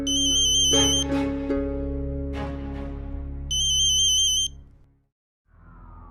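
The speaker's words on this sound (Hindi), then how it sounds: "फोन बज रहा है, देखना" An electronic ringtone trills in two repeating bursts over a steady hum of background music, then cuts off into brief silence.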